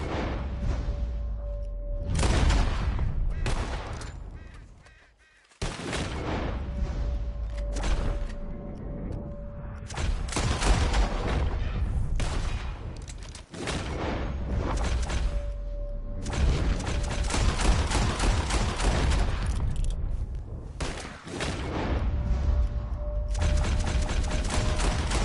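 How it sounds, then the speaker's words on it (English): Gunfire in a shooting contest in the Western video game Red Dead Redemption: loud, rapid volleys of shots and booms with mechanical gun clicks, sustained in long dense stretches with brief pauses between. "As soon as you see them, start shooting."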